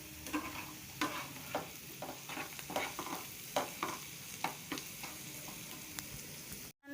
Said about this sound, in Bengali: পেঁয়াজটা ভাজা হয়ে এসছে, এবার আমি একটু নুন দিয়ে দিচ্ছি এটার মধ্যে